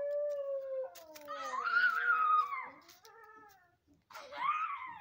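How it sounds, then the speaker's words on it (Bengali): Dogs howl and yelp outside a train station, with long, wavering, rising and falling cries near the listener. A short pause breaks the calls, then another howl rises sharply near the end. "কুত্তা চিল্লার"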